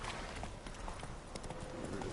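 Roach, Geralt's horse in The Witcher 3, trotting with quick rhythmic hoof clops over a dense, busy background, fairly faint and continuous throughout.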